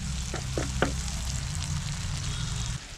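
An onion and tomato mixture sautés in a pan with a steady, close sizzle and a few sharp stirring scrapes near the start, and a low rumble runs underneath most of the time.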